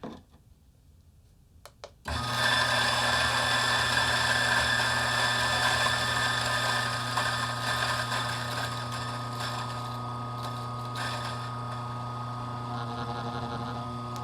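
A DF64 coffee grinder with bellows and a 3D printed adapter, set for espresso, starts up after near silence and grinds beans with a steady motor whine that carries on for about twelve seconds.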